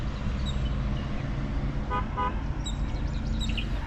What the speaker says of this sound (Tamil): மெயின் ரோட்டில் வாகனங்கள் போகிறதோட ஹாரன் சவுண்டெல்லாம் நம்மளுக்கு கேட்குது.